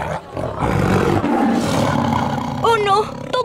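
Tiger roar from a Nickelodeon comedy, a loud drawn-out growling roar close by, followed by speech and a high squeaky vocal sound.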